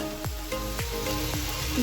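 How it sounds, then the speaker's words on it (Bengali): Bitter gourd and potatoes fry in a home kitchen pan, giving a steady, close sizzle with three regular stirring scrapes across it and no talk. "এখানে মা করলা আলু ভাজছে।"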